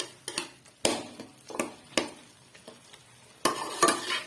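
A metal spoon scrapes and clinks around a pot of chicken yakhni pulao, giving scattered knocks and taps with pauses between strokes, close and moderately loud with no voices.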